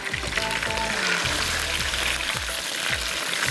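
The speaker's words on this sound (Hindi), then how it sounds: "चलिए लहसुन ऐड कर देते हैं और चिकन को थोड़ा सा उसका कलर सफ़ेद होने तक हमने उसको भून लेना।" Chicken pieces with garlic fry in a pan for a chicken qorma, giving a steady moderate sizzle with some stirring sounds and no talk.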